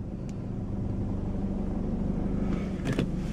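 A car creeping slowly while parallel parking beside another vehicle, heard from inside as a steady low engine rumble with a faint brief rattle near the end.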